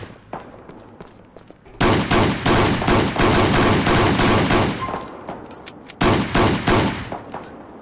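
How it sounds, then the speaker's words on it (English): Rapid bursts of gunfire in the GTA IV police game, sharp cracks packed into dense volleys after a quieter opening, with a brief lull before a final burst, loud and close. "We both shot him in the face."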